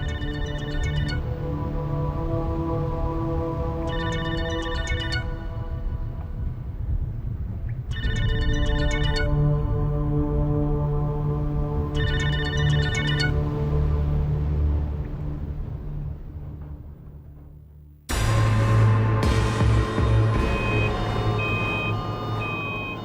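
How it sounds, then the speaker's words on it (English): A phone ringtone plays a repeating electronic melody in regular bursts with short pauses, loud and close, then a different tonal pattern abruptly takes over. "Momoko calls Junko's mobile phone."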